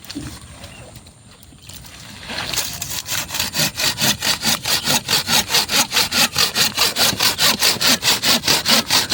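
Hand saw cutting through wood in a dry Kalimantan swamp area, quiet rustling at first, then a loud, fast, even rhythm of back-and-forth strokes rasping close by.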